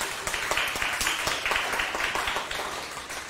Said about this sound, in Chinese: 如果就有道理的话，鼓掌一下